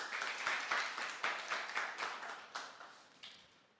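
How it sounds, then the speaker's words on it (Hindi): Scattered applause from a small audience at a UPSC civil services motivational session, a few sharp individual claps standing out before the sound thins and fades toward the end. "एक बार दीपक के लिए जोरदार तालियां बजाइएगा"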